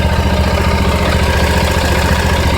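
A riding lawnmower engine running slowly, a loud, steady, rough low drone with constant mechanical vibration, close up and with no speech over it.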